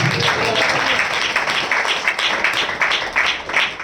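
A church congregation claps during a sermon in a steady, rhythmic beat, loud and close, with voices mixed in among the claps.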